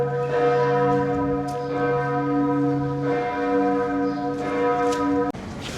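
Church and cathedral bells ring together at midday across a town in Austria, a steady overlapping peal with sustained tones and repeated strikes, loud and resonant, with no talk.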